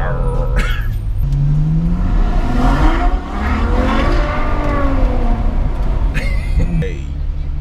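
A Ferrari FF engine revs loudly and close up while driving, its note climbing and dropping in sweeps, with brief voices and throat sounds from inside the car.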